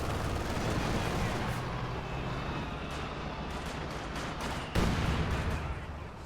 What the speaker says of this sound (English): Werfer now opening fire.